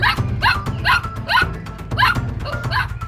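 A cartoon dog in a Kannada kids' animation barks repeatedly, a steady series of about seven sharp, evenly spaced barks, loud and close, with no talk over them.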